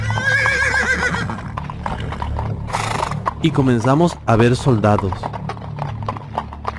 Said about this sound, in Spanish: comenzamos a escuchar unos galopes de caballo